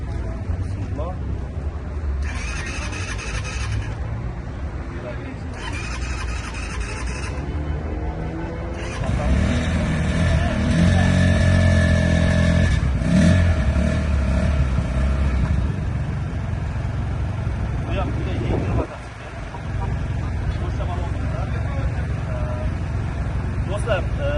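A Xunjie 250cc motorcycle with a radiator-cooled engine starts and runs loudly and close, its steady idle rising into several throttle revs, with people talking over the engine noise.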